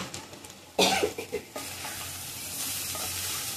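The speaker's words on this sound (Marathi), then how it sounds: "आपण हे क्रश केलेले तुरीची दाणे आणि मटार टाकूया. चांगले शिजून घ्यायचे" Crushed pigeon peas and green peas go into a hot pan with a sudden burst of sizzling, followed by a few sharp stirring knocks, then a steady crackling fry over low heat.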